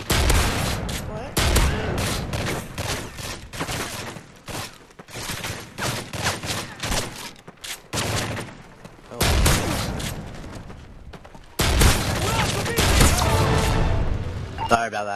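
Bursts of automatic gunfire ring out in Modern Warfare 3 survival mode on a village map, loud clustered volleys separated by brief pauses, with a voice talking over parts of it.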